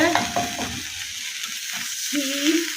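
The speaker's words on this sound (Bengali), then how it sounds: "আলু আর করলাকে ভাজি করতেছি পেঁয়াজ আর কাঁচামরিচ তেলের মধ্যে দিয়ে" Potatoes and bitter gourd fry in oil with onion and green chilli, a steady close sizzle broken by brief tonal squeaks near the start and end.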